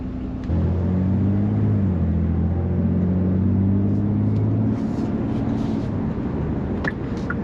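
A 2023 Genesis G70 3.3T engine drones steadily inside the cabin, a loud, sustained low hum with layered tones that holds for several seconds, then shifts pitch and eases near the end.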